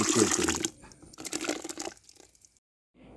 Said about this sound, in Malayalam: ഇതിലേക്ക് നമ്മൾ ബാക്കി വെള്ളം കൂടി ചേർത്തിട്ട് നന്നായിട്ട് ഇളക്കി